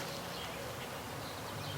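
A dense, continuous buzz of many honeybees at new hives, droning steadily throughout, fairly close and unbroken.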